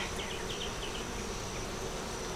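Bees at a hive make a steady, dense buzzing drone that fills the short moment, close and continuous with no voices.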